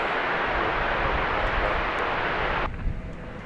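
An airliner rolls out after landing on a DFW Airport runway on a gusty, blustery day, its engine roar a loud broadband wash that drops suddenly near the end, with no talk over it.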